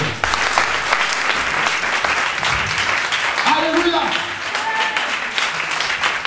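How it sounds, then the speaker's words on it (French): Church congregation applauding and cheering during a worship service, loud sustained clapping with raised voices and shouts over it, and a voice calling out praise midway. "donne une acclamation encore au Seigneur"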